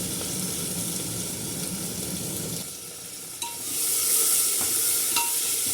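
Cumin, onion, green chillies and tomato frying in a pan, a steady hiss that drops away then swells into a brighter, louder sizzle, with a few small clinks and no talk.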